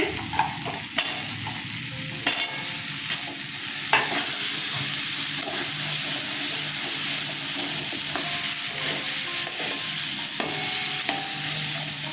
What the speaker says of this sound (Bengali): মশলাটা একটু কষিয়ে নিলাম এবার সজনে ডাঁটাগুলো দিয়ে দিচ্ছি